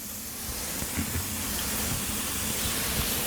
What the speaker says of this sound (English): You could hear them sizzling here.